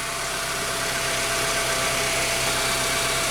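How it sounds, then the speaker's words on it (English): A 2006-2011 Honda Civic engine idles just after a power steering pump replacement, giving a steady, even mechanical hum with faint vibration that holds without change throughout. "The vehicle's been running for a little bit"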